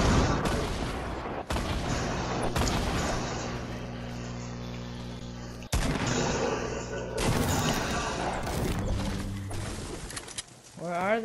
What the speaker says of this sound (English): There's people shooting!